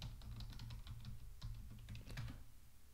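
Someone types a password on a computer keyboard: a quick, close run of crisp keystrokes lasting a few seconds, alone and without speech.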